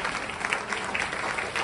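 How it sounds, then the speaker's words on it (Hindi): An audience at a Hindi-speaking event in India applauds with steady, dense clapping that fills the short moment without a break. "के लिए तालियां बजानी चाहिए"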